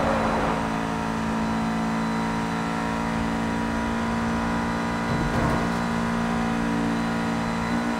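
A car engine revs hard under nitro boost in the racing game Need for Speed No Limits, a loud, steady, high-pitched roar that holds throughout with a brief surge near the end and no talking.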